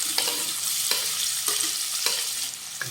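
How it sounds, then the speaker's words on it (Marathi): Chopped onion sautéing in a pan for aloo methi, a steady close sizzle broken by rhythmic stirring scrapes about every half second. "कांदा व्यवस्थित परतून घेऊया"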